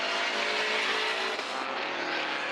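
BMW and Ginetta race cars scream past on a GridLife GT circuit at Autobahn Country Club, Chicagoland, a loud continuous engine roar with a brief dip as the cars pass close by.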